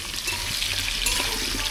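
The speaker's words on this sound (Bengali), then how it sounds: "আলুতে লবণ দিয়ে ভেজে নেব" Potatoes with salt frying in a pan for chicken biryani give off a steady, watery hiss, close and moderately loud, briefly and without any speech.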